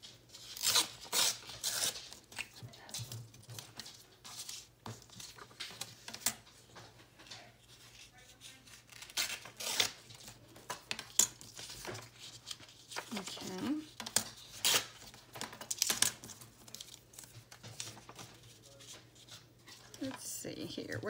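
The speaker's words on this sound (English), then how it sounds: "So let me tear some of this out." Patterned paper torn by hand for a collage journal: repeated sharp ripping bursts and soft paper handling rustles, close and quiet, with a person talking intermittently over them.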